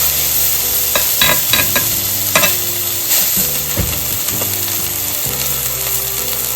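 A smashed burger patty sizzles loudly on a hot griddle right after being flipped, a steady crackling fry with occasional scraping and stirring clatter, close and without talk.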